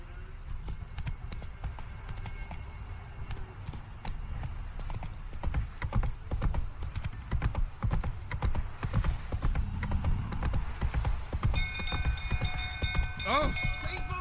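Hooves pound rhythmically as a horse gallops in The Witcher 3, loud and close, the pace picking up midway, with a brief whinny near the end and a voice speaking intermittently over it.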